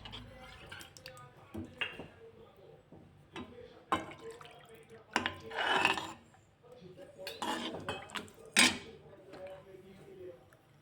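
A buttermilk and water mixture is stirred in a pan on the stove for a Kathiyawadi kaju gathiya curry, with sporadic spoon clinks and scrapes against metal and soft liquid sloshes at a quiet level.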